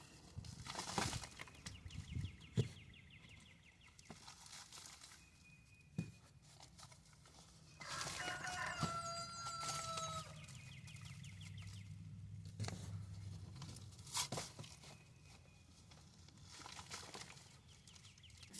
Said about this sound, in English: Rooster is currently competing with a neighbor